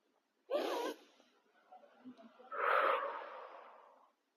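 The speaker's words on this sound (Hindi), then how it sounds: "गहरी लंबी सांस अंदर और धीरे धीरे बाहर" A person takes a quick, forceful breath in, pauses, then lets out a long, slow, audible breath during meditation, the exhale close and breathy as it gradually fades.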